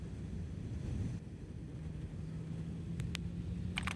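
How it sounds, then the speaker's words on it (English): Strong wind buffets the microphone beside a Honda CBR650R motorcycle, a constant low roar filling the whole stretch with no speech over it. "I just wish it wasn't this windy."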